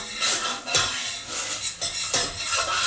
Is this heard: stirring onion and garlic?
yes